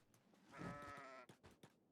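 A single goat bleats in the video game Kenshi, a drawn-out wavering cry lasting about a second at moderate volume, followed by a few short clicks and thumps.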